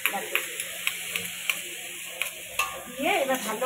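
Fish curry being stirred in a pan with turmeric, chilli paste and spice mix, a steady sizzle broken by repeated close scraping strokes of a spoon, with a voice speaking over it.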